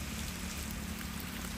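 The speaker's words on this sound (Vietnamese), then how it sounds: "hiện tại giờ trời đang mưa lắc nhắc luôn nè" Steady light rain falls during a fishing outing beside a canal, a soft continuous hiss with patter, even and moderately close, with no voices over it.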